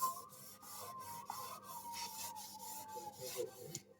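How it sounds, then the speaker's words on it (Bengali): Cotton cloth rubbing an old aluminium utensil to lift black tarnish, a steady dry rasping scrub with repeated short strokes, close and fairly quiet, with no talk. "এবারে একটা সুতির কাপড় নিয়েছি এইভাবে ঘষে নেব"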